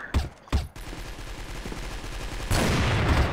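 Rapid gunfire in the online shooter Crossfire, on the castle map: a couple of sharp shots up front, then sustained automatic bursts with a louder, denser volley toward the end.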